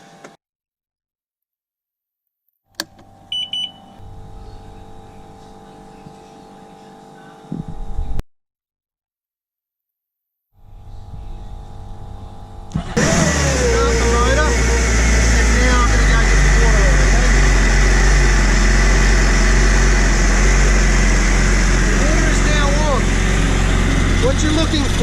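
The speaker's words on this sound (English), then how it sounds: "Once I start the engine, I've got about 15 to 30 seconds of running it without any water" After a few muffled sounds and a silent gap, a Kawasaki Ultra 310/300 jet ski engine roars to life out of the water with a hose attached and keeps running loudly and roughly, close by.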